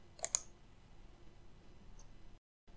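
Two quick mouse clicks in Google Chrome, sharp and close, followed by quiet background hiss and a faint later tick before a short silence.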